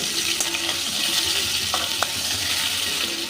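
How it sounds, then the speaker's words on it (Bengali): Turmeric-coated cauliflower florets fry in hot oil for an egg and cauliflower curry, giving a close, continuous hiss with a few light clicks of stirring throughout. "এবার ফুলকপিটাও আমি অল্প ভেজে নেব"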